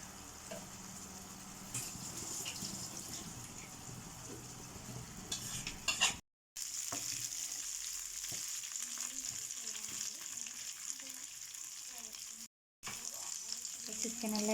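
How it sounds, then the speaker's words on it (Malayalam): Chicken snacks sizzle in hot oil in a pan over a medium flame, a steady close frying hiss with occasional light stirring and utensil clinks, broken by two brief silent gaps. "ഏകദേശം ഫ്രൈ ആയിട്ട് വരുന്നുണ്ട്"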